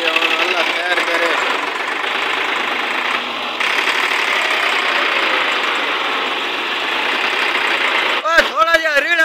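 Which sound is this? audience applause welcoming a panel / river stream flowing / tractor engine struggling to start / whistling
tractor engine struggling to start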